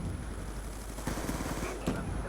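A Scorpion gun fires in a video game, giving a quick rattling burst of rapid shots layered over busy game noise. Brief speech may be mixed in.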